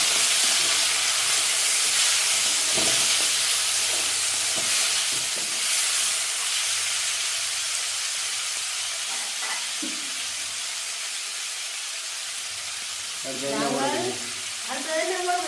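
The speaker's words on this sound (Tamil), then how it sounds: "வெங்காயம் வதங்கிட்டு நாங்கள் பெருஞ்சீரகமும் உள்ளியும் போட்டு வதக்குவோம்" Onions frying with fennel seeds and garlic in a pan, a loud steady hiss and sizzle with occasional utensil knocks, and a voice speaking briefly near the end.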